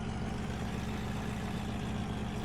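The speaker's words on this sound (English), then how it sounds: "That Duramax engine does sound really nice." A Duramax diesel truck engine idles in the Farming Simulator 17 video game, a loud, steady low rumble that holds evenly throughout with no talk over it.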